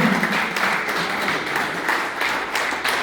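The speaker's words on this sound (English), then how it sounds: "So, round of applause for all of them." Crowd applause at a men's closing day awards event, a steady wash of many hands clapping that carries evenly through the whole stretch without any speech over it.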